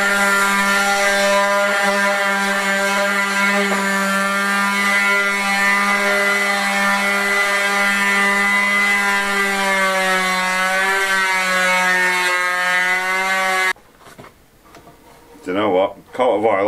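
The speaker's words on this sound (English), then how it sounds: "we'll give it a quick sand down now, and see what that looks like" A power sander whines steadily and loudly across old wood for a long stretch, then cuts out and a person speaks briefly.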